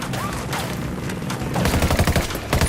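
Bursts of automatic gunfire in the Ghost Recon Wildlands video game, a dense run of rapid close shots that grows louder and more clustered toward the end, with faint game voices underneath.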